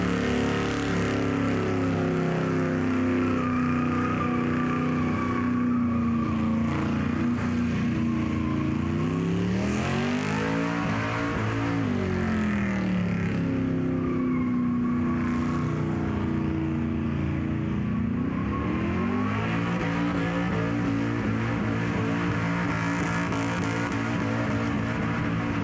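A Holden VY burnout car on a Summernats burnout pad, its engine droning loud and steady with rising and falling revs throughout, heavy broadband roar with no talk.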